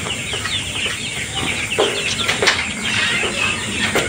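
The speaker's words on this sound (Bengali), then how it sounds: "এখানে কয়েকটা মুরগির বাচ্চা ঝাঁক ধরে খাচ্ছে" A flock of young chicks at a poultry farm cheeps and clucks steadily while feeding, a busy, close chatter of small birds with occasional flutters and no talking.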